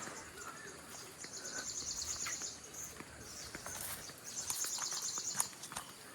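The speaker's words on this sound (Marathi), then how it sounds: "पक्ष्यांचा आवाज येतोय बाजूला" Birds chirp in bursts of high, rapid twittering at a moderate distance over quiet outdoor background noise, with faint scattered rustles.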